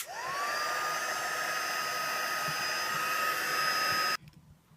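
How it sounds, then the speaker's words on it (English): An electric heat tool blows hot air to melt clear embossing powder on craft card, a steady whirring whine with a rising pitch at start-up that cuts off abruptly near the end. "I'm just going to melt this with a heat tool"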